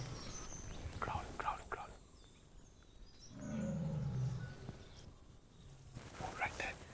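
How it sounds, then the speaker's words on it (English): A tiger growls nearby during a safari drive in Bandhavgarh National Park, India: a low, rumbling growl swells for a couple of seconds mid-clip amid soft outdoor ambience, with quiet voices before and after. "The tiger's right nearby. He's growling at us."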